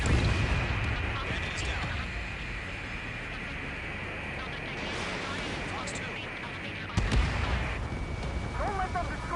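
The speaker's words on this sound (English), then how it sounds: "The harbor's under heavy fire!" A harbor comes under heavy fire in the video game Ace Combat 7, with a continuous rumble of artillery and explosions, a sharp loud blast near the end, and radio voices talking over it.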